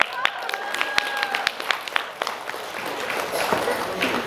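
Scattered clapping and cheering from a party crowd for the bartenders and DJ, sharp individual claps over a busy background with some voices in the room, building into a fuller patter toward the end.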